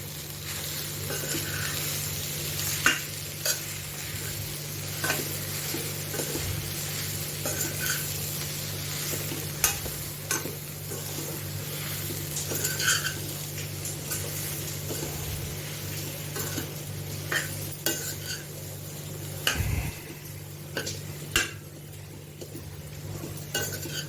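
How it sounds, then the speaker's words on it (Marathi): Vegetable filling sautéed in spiced masala with turmeric in a pan, a continuous close sizzle under repeated scraping and stirring strokes and occasional clinks of a spoon against the metal, with no voices. "मी भाजी मी परतून घेते त्या मसाल्यामध्ये"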